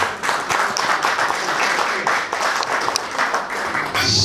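Sustained applause from a crowd at a charity gala for asthma causes in a London Hilton ballroom, dense and steady clapping filling the room for several seconds.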